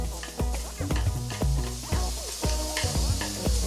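Green onion and onion sizzling in a pan while preparing japchae, a close, steady frying hiss broken by sharp clattering spatula strokes at a brisk, uneven rhythm.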